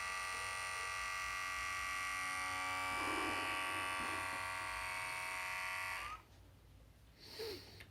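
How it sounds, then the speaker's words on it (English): A Syska HB 100 electric hair trimmer runs with a steady, close-up buzzing hum for about six seconds, then switches off, leaving a brief faint rattle. "The trimmer works."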